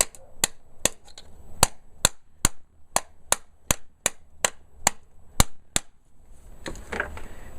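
A wide Schrade SCHF38 Frontier survival knife chops into tough, hard wood in about fourteen sharp, evenly spaced whacks, close and loud, followed by a brief rustle.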